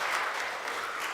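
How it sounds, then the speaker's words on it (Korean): Church congregation at a Sunday service clapping to welcome a visitor, a brief burst of dense, steady applause from many hands in a large room. "박수로 환영합니다."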